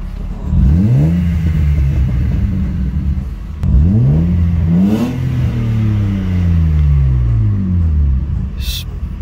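A BMW E36 engine revs and accelerates close by, rising and falling in several sweeping pulls with a smooth low note turning raspy higher up.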